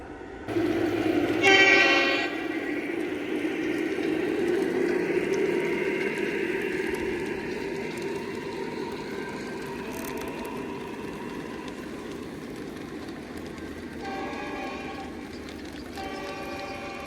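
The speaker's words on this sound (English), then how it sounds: "we're gonna go ahead and run this train here past the switch" A Lionel model train runs on a garden railway track, rumbling steadily past a switch with a loud horn blast near the start and another shorter horn burst toward the end, no talk.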